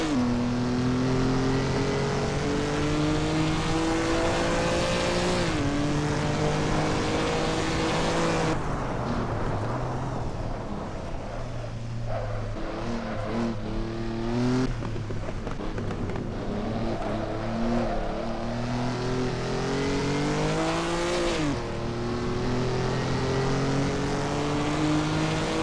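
Engines of 1950s Formula One race cars in the Assetto Corsa racing game, held at a loud, continuous high-revving roar with gear changes and pitch sweeps, up close and steady throughout with no talking.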